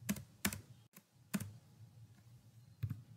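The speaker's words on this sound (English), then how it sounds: "hit on any button on the keyboard and the next slide will appear" Computer keyboard keys pressed in a few sharp, separate clicks with gaps between them, close and distinct in a quiet room.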